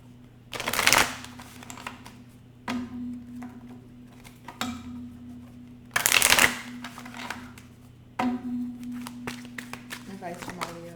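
Tarot cards shuffled by hand in several loud riffling bursts separated by short pauses, with a low hum underneath and a person talking between them.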